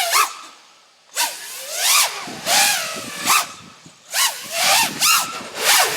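A cheap FPV racing quadcopter on Emax motors whines in repeated full-throttle punches, each a sharp rising buzz that swells and falls away, loud and close, flown outdoors in the sun.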